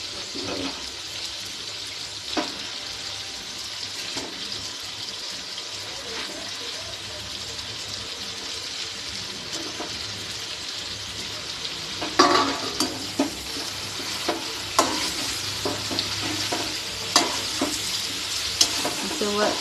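Stuffed brinjals, eggplants, frying in a pan on a griddle with tomatoes and being stirred: a steady close sizzle runs throughout, with scraping spoon strokes growing louder and more frequent in the second half.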